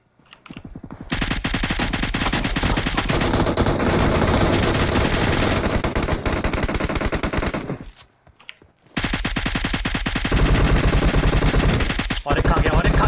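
Rapid automatic gunfire roars almost without pause in a shooter video game, dense bursts of loud close shots broken by one brief lull before firing resumes.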